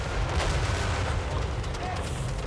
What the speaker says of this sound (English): how is that cannon shooting if it's not facing forward?